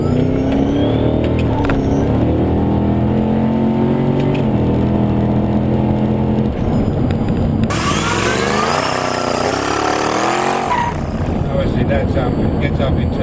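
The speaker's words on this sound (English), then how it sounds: "I'll try a bit more acceleration from off the line" A Holden VE SS V ute with a T400 transmission and 650 rwhp accelerating hard from a standing start, a loud V8 roar climbing through a gear change with a harsh rising surge, heard from inside over steady cabin noise.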